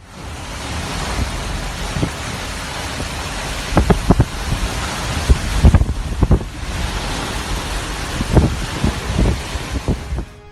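Strong wind and heavy rain from tropical storm Nora lash the Mexican Pacific coast in a steady, broadband roar, with gusty surges and sharp bursts cutting through the noise.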